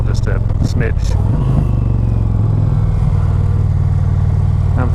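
A 2020 Indian Challenger motorcycle's engine drones steadily and loudly while riding, a deep continuous hum with slight surges, with a voice talking over it at the start.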